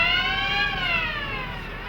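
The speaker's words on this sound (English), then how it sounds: "the shift manager will order an evacuation, which sounds like this." A factory fire evacuation alarm sounds continuously, a rising and falling electronic siren tone, fairly loud and steady, with no voices over it.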